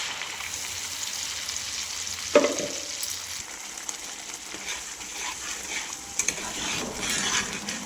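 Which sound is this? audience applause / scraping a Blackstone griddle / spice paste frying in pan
spice paste frying in pan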